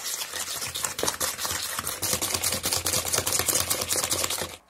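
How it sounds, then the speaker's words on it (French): A whisk or spoon beats egg yolks with sugar and coffee flavouring in a mixing bowl, producing fast, steady rhythmic clicking and scraping strokes that run continuously before stopping abruptly near the end. "Je mélange."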